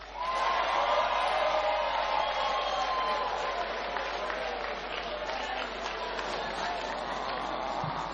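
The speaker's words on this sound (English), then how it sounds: "Let's give a round of applause to His Excellency." Sustained applause and crowd noise from an audience after a speech at a national political party conference, a dense, steady wash of clapping and cheering lasting several seconds at an even level.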